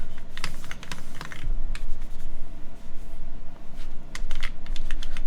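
Steady typing on a Bahm Dolch TKL prototype mechanical keyboard with a very low typing angle, a dense run of close, continuous key clacks and taps over a low background hum.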